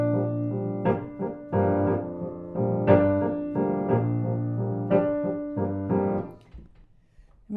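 Solo piano playing a 12/8 R&B groove accompaniment, steady rolling chords in a lilting triplet feel with repeated accented attacks, close and clear, with no voices, ending on a fading final chord.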